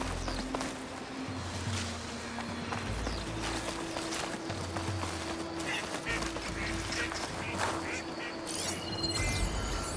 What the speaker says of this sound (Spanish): Que hay patos y gansos, además.